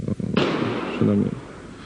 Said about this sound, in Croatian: Ne bojte se, to je petarda.